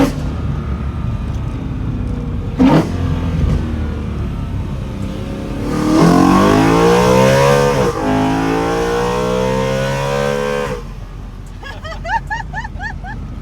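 A BMW E93 M3 V8 fitted with velocity stacks in place of the intake plenum roars from inside the car, its revs climbing and dropping with a few sharp downshift blips, engine loud throughout with a brief burst of chatter near the end.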